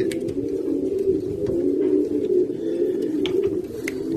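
Pigeons kept as breeding stock at a Cuban loft coo steadily in a continuous low murmur, several birds overlapping with no pauses, with faint higher chirps now and then.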